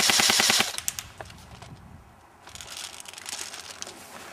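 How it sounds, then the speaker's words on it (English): Airsoft AEG with a Burst Wizard controller firing, a fast rattling volley at the start followed by scattered clicks and mechanical noise, then quieter rustling, close and without talk. "Here's a 3-shot burst with full auto."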